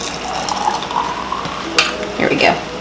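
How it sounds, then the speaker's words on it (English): Water pours from a container into a glass holding half a cup of cashews, a short splashing trickle with a brief clink near the end, close by and fairly loud. "And then I have some water. And I'm just going to fill it up."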